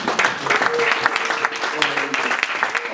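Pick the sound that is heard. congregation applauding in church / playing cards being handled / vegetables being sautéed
congregation applauding in church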